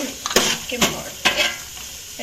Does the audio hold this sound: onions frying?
yes